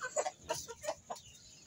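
Chickens and roosters on a farm cluck in short, scattered bursts, fairly faint, with no talking.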